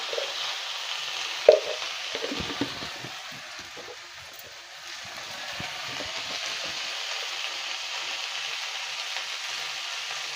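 Vegetables fry lightly in a pan for a village-style Bengali chingri mach puish, giving a steady soft sizzle with a few clinks and stirring scrapes near the start.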